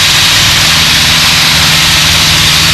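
Piper Cub light airplane engine in steady flight, a loud continuous droning hum with wind noise heard close from inside the cabin.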